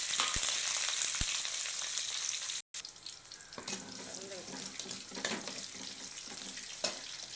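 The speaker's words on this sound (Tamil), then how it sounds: "எண்ணெய் ஊற்றிருக்கேன். கடுகு போட்டுக்கலாம், சீரகம் போட்டுக்கலாம், பொரியட்டும்." Mustard and cumin seeds fry in hot oil for a kootu, giving a steady close sizzle with scattered sharp pops and crackles and a brief dropout partway through.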